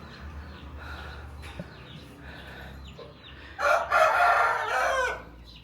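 A rooster crows loudly and close by among black-bone chickens in a Dai village yard in Yunnan, its drawn-out call rising suddenly over a quiet background and lasting a little over a second.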